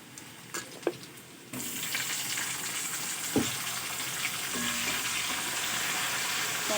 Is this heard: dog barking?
no